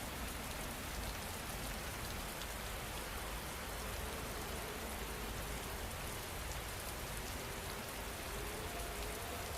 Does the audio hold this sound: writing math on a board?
no